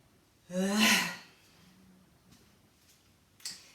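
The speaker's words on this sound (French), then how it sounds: "Grande respiration." A single deep, audible breath taken during a stretching session, a loud breathy rush lasting about half a second, then quiet with a faint short exhale near the end.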